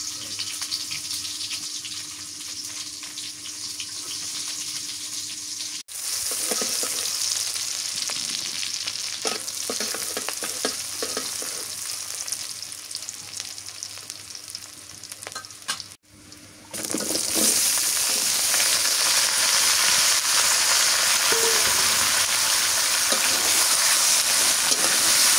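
Onions frying in a pan for a river fish and bottle gourd curry, a steady sizzle with stirring scrapes, a tap running briefly, then a louder, denser hiss after more goes into the hot oil.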